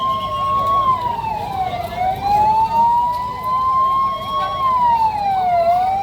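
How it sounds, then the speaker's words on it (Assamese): An emergency siren wails during a mock drill on Girls' Road in Lakhimpur, with fire services responding. The tone is loud and close, rising and falling steadily throughout over faint traffic noise. "বাজি উঠিল চাইৰেন"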